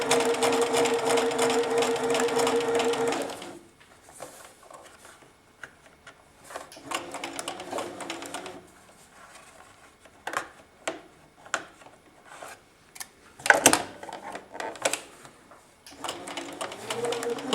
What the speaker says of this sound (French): Maintenant, il suffit de coudre jusqu'au bout en gardant bien le repère